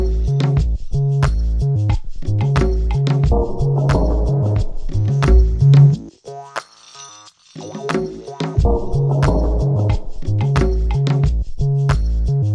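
An Elektron Octatrack Mark II sampler plays a clean, punchy drum pattern with tonal hits in a steady groove; the beat drops out briefly mid-way, then returns at full level.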